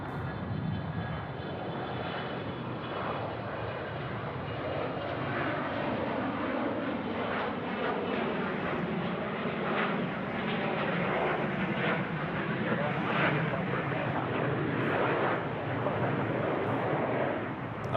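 An aircraft taking off at Sydney Airport, a broad, steady engine roar that stays loud and continuous, heard from close range at the field with no talk.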